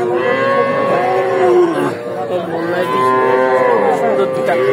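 Cattle moo at the Chandai Kona livestock market in Sirajganj, where Friesian heifers are for sale. Two long, loud, drawn-out moos sound close by over a low market murmur.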